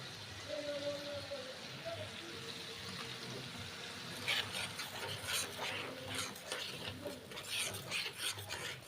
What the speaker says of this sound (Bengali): তো এটাকে আমি একটু কষিয়ে নিব।